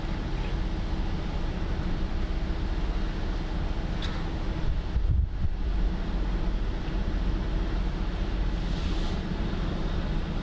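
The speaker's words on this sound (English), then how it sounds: "I definitely feel the gusty winds starting to come in here" Gusty wind buffeting the microphone during a storm chase in Nebraska under tornado threat, a loud steady rumble with one stronger gust midway, no talking.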